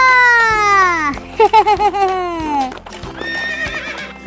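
A racing horse in the Central Aceh district neighs loudly up close, with a long descending whinny followed by a quick wavering one, over rhythmic hoof clip-clops on the ground.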